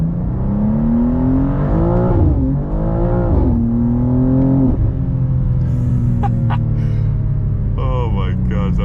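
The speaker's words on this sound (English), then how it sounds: "I'm sure you guys can hear the burbles through the phone as well." A BMW M2 G87 with a single midpipe exhaust rumbles at close range, its engine note rising and falling through revs with burbling crackle, while a person talks over it.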